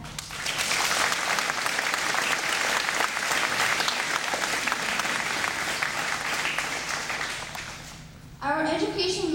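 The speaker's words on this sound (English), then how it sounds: "A round of applause for all the teachers and staff." Sustained applause from a school graduation audience honouring teachers and staff, loud, steady dense clapping for about eight seconds before fading, then a brief voice at the end.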